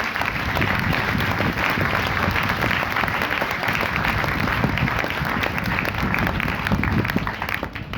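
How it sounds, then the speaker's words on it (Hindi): Loud, sustained applause from students at a school morning assembly welcoming a speaker to the stage, dense steady clapping filling the room for the whole stretch. "जोरदार तालियों से इनका स्वागत करें"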